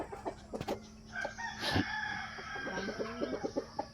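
Pet chickens in a backyard cluck and crow nearby, with a stretched crow in the middle and a run of rapid clucks toward the end, plus scattered knocks.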